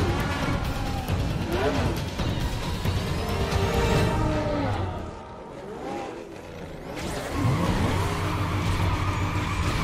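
A Koenigsegg CCXR in Need for Speed Carbon Redux revs hard near 10,000 RPM, its loud engine wail layered with screeching tire skids that dip briefly and then surge back.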